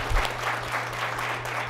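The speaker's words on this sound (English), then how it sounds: "you got to clap for him too" An audience claps at a talk about autism, a dense steady patter of applause that starts with a sharp burst and carries on evenly for nearly two seconds, no voices over it.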